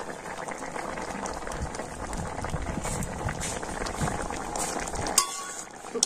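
Potato and pea curry simmers with kasuri methi, a dense close bubbling and spattering that runs steadily, ending with a couple of light clinks.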